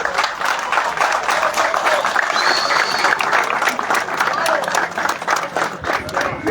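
Audience applause at a car meet awards ceremony, dense sustained clapping from a crowd, loud and continuous, with a few scattered voices mixed into the clapping.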